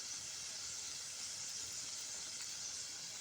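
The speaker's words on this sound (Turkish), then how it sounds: "Ateşim de çok güzel yanıyor." A wood fire burning outdoors at a village cooking spot gives a steady, soft hiss with no clear pops or breaks throughout.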